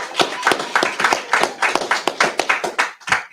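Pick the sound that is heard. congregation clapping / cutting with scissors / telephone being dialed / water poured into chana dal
congregation clapping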